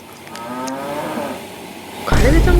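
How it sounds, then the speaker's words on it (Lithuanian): A cow moos in a long, drawn-out call near a forest campsite, with a louder, closer burst of sound at the end. "Karvė ten? Nu, karvė."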